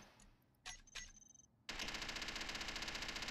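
A P90 fires rapidly in the Space Engineers game with the Stargate mod: a couple of short bursts come first, then a sustained rattling stream of shots. Overall level is quiet.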